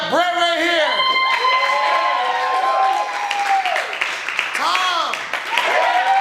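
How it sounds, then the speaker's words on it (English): An audience at an improv class graduation show applauds and cheers, with continuous dense clapping and whoops and shouted voices riding on top, loud and sustained. "go ahead and clap it up"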